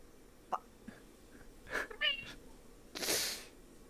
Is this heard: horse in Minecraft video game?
no